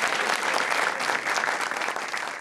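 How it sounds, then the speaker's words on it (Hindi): A studio audience at an Eid-ul-Adha television show gives loud, dense applause for the musicians, a continuous close roar of clapping with no talk. "हमारे म्यूजिशियंस के लिए जरा जोरदार तालियां बजाइए यार"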